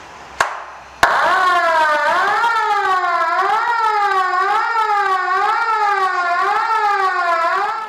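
A wailing siren horn, rigged as a signalling telephone in a bathroom at a castle in Hilfikon, rises and falls in a steady repeating cycle for several seconds after two sharp knocks, loud and close.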